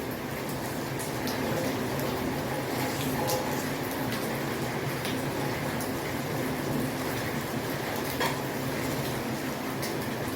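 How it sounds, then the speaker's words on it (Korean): Heavy downpour pelting a rural bus stop, a steady dense hiss of rain that holds at the same level throughout with occasional sharper drop impacts nearby, no voices. "비가 너무 많이 와가지고 비가 좀그친거야 되는데 그칠 비가 아니네"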